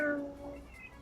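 A voice imitates a cat's meow, one short tonal mew that fades out, close and fairly loud with no other talk.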